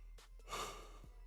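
A single person's yawn with breathy inhales and a long drawn-out exhale, close and fairly quiet in an indoor room during an NFL draft night live stream.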